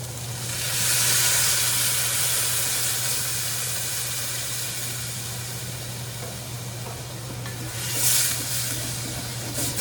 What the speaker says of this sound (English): Okay, now I'm going to deglaze with my veg stock